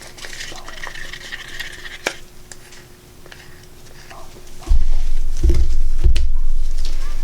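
Resin being stirred in a cup for coasters, soft scraping and tapping strokes close by, ending with louder knocks and handling bumps.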